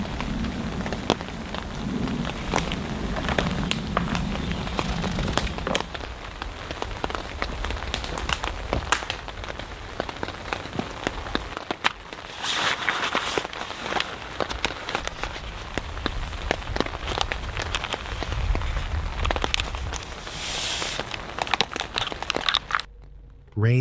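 Steady rain patters on a tarp over a forest campsite, a dense close hiss of drops with scattered sharper taps and a low rumble beneath, running without pause.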